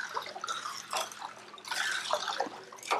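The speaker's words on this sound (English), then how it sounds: "you could simply just use your hand and circulate the water" Water in an ice bath tub being circulated by hand, soft swishing and sloshing in uneven bursts, close and fairly quiet with no talk.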